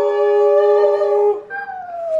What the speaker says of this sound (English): you already know his partner in crime, the singing dog